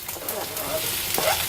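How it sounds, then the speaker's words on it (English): Onions go into a hot frying pan while cooking Nepalese-style Quorn spaghetti, producing a loud, steady, close sizzle with a light stir throughout the short moment. "Now it's time to add some onions."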